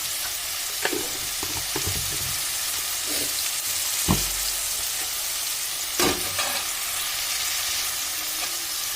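Spicy tomato and chicken curry sizzles and fries steadily in a pan while a spoon stirs through the mashed tomato, with a few sharper scraping knocks cutting through the constant close frying hiss.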